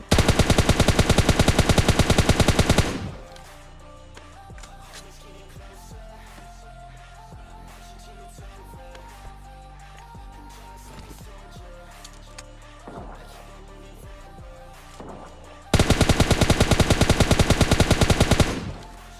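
Rapid automatic gunfire in the mobile battle royale game PUBG Mobile Lite, loud sustained bursts at the start and end with quieter scattered shots and game noise between.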